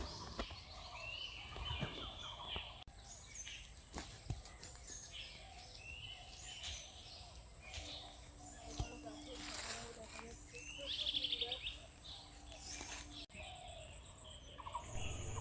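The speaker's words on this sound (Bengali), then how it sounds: "প্রচুর পাখির ডাক শোনা যাচ্ছে" Many birds call through Khisma forest, a woodland of sal, teak and mango trees, with scattered chirps and whistles near and far under a person talking.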